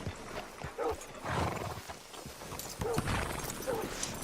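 Horse hooves clop and a horse whinnies in the Western video game Red Dead Redemption, a faint, mid-distance mix of hoofbeats with a couple of brief neighs, without talk.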